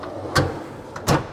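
A slide-out drawer above the rear wheel of a 2019 Chevrolet G4500 Type 3 ambulance rolls out with two quick sliding thumps, close and fairly loud, with no talk over it.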